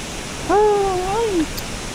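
Tat Kong waterfall in the rainy season gives off a constant rushing roar of falling water. A short, wavering voiced call rises briefly above it near the middle.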